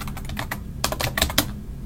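Typing on a computer keyboard while entering text into a web form, heard as quiet, close keystrokes in an irregular pattern with a short quick flurry near the end, and no talking.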